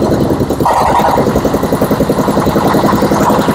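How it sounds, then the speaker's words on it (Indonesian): A diesel engine powering a fish pellet machine starts up and settles into a steady, loud, close-up chugging run with a rapid regular pulse. "Pertama kita nyalakan dieselnya dulu ya"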